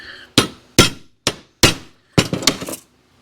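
A hammer striking a transfer punch to mark motor mount holes for a Dodge Dakota V10 swap: four sharp, loud, evenly spaced metallic blows followed by a quick cluster of lighter taps, with no talking.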